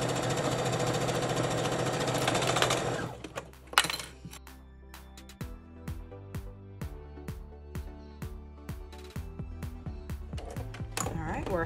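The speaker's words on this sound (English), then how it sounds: "sew it together, and then sew it closed, and we'll be done with our skirt and our top." A sewing machine stitches a skirt made from an up-cycled T-shirt and shower curtain, running in a steady whir before breaking into a series of short rhythmic bursts and stops, close and clear.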